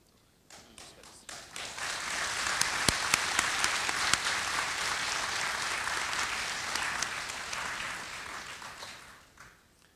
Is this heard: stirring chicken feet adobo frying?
no